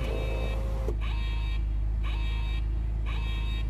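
A repeating electronic phone alarm tone sounds in evenly spaced bursts over the constant low rumble of a BMW engine just started.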